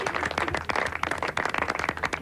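A brief burst of applause for the prince in a televised football studio, scattered close hand claps at moderate volume.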